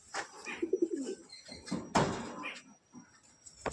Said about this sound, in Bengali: দেখুন একদম পুরো একটা সেট পায়রা।